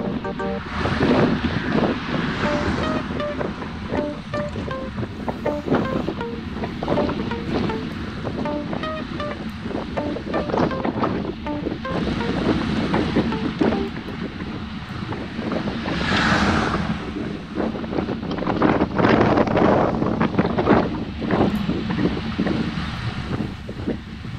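Steady wind roars across an exposed hilltop during a group cycling ride on Capitol Hill Drive, a continuous blustery rush with gusts swelling and easing throughout, loud and close to the microphone with no talking.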